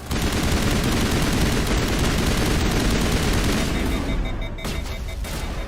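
Rapid gunfire from the Mass Effect 1 video game, a loud, dense burst of repeated shots that fades slightly toward the end.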